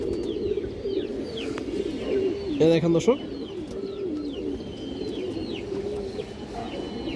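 Pigeons, including a female, coo softly and repeatedly in the background while someone talks over them, with a brief flutter or scuffle partway through.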